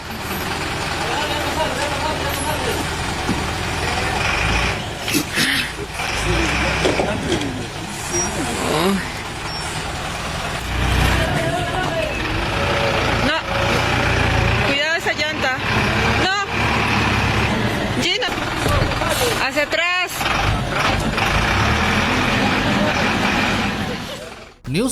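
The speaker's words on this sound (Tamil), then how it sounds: "பெரு நாட்டுல இந்த பஸ் பாஸ் எந்த அளவுக்கு சவால் நிறைஞ்சதா இருக்குன்னு பாருங்க." A bus labors along a dangerous mountain road in Peru, its engine droning continuously with hissing air-brake bursts and clattering knocks, while a voice talks over the road noise for much of the stretch.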